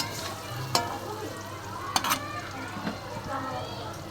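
Soybean chunks frying in a pan while being stirred and tossed until browned, a steady close sizzle broken by a few sharp scraping stir strokes.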